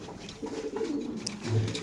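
Racer pigeons cooing at a pigeon farm, low throaty coos close by in an unbroken murmur, swelling slightly louder near the end.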